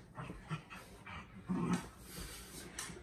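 Dogs pant and whimper indoors during a home workout, with soft, uneven breathy puffs and a few short whines at low volume.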